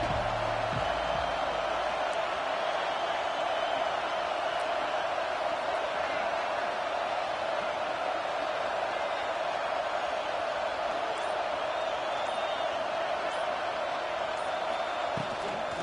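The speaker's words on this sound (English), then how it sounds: "This crowd ready to make its presence known." Stadium crowd in the college football video game NCAA 26, a steady, dense roar of many voices sustained throughout with no breaks, loud and filling the whole stretch.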